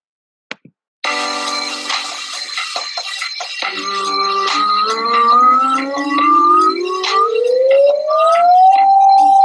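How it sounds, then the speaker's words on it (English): A single voice sings a two-octave siren as a vocal exercise, gliding smoothly and continuously upward from low to high pitch, loud and close, with no accompaniment. "And a 2-octave siren."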